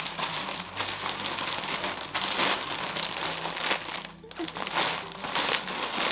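Crinkly plastic wrapping rustled and handled nearby as a pouch holding a rug is opened, dense continuous crackling with a short lull partway through.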